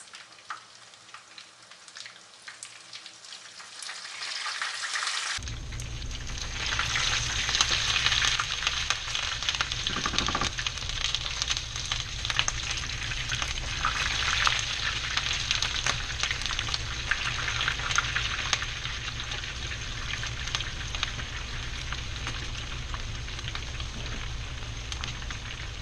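Keto cod fritters sizzle in hot oil, a dense, steady crackling hiss that jumps in loudly after a quiet opening and keeps bubbling close by without pause.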